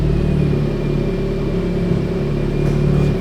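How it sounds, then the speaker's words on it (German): The six-cylinder engine of a Frankia Yukon 4x4 motorhome idles with a steady, deep rumble, heard close and alone at an even level throughout. "Ja, aber der Sechszylinder klingt auch gut."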